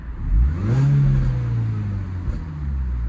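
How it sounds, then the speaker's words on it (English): A supercharged Mini Cooper S R52 convertible revs once nearby, the engine note rising then falling back toward idle, loud and close with no talk over it. "I'm going to give it a quick rev. Can you hear that popping?"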